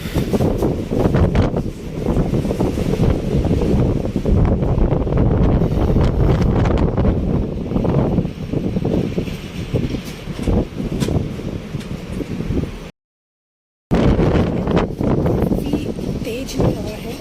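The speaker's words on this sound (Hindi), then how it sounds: "यहाँ पे शाम के ठंडी और बहुत तेज हवा आ रही है।" Strong, cold evening wind on a balcony in Mississauga roars and buffets the microphone continuously, with a brief dropout near the end.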